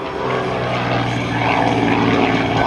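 A propeller aerobatic airplane roars continuously during an airshow maneuver at a military joint services open house, its engine loud and steady with a dense, throbbing drone and no voices.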